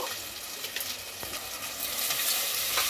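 Goat head meat frying with tomatoes and coarse salt in a pan for a curry, a loud close sizzle with stirring scrapes and a rising hiss, no voices.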